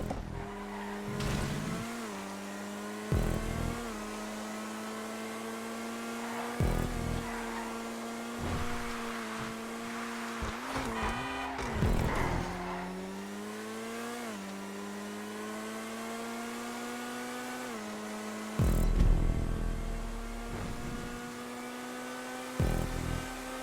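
The Vysser Neo sports car in GTA 5 races down a long straight at top speed, its engine holding a high, steady whine that dips and climbs again with gear shifts and brief revs.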